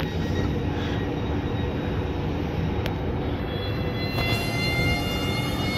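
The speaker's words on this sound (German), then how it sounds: "Und RE4 hat Ausfahrt." An RE4 regional train pulls out of Düsseldorf Hauptbahnhof with a steady, broad rolling rumble, thin high wheel squeal lines threading through, heard from a platform without talk.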